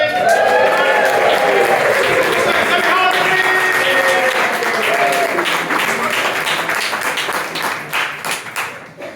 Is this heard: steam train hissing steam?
no